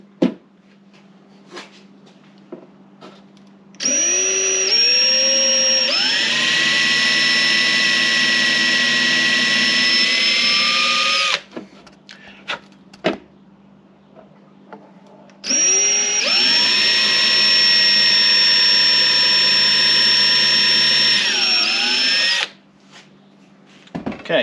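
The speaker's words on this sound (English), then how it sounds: "Again, let the drill do the work." A power drill drilling holes through wood while repairing an RV kitchen drawer: two long, loud sustained whining runs with rising pitch as each spins up, separated by a quiet gap with light handling clicks.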